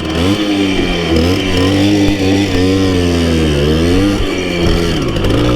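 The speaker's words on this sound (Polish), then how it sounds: "A teraz co? Odpalamy brykę i jedziemy dalej." A Simson S51 moped engine runs steadily and loudly at close range, its pitch rising and falling as it revs and pulls away, with no talking.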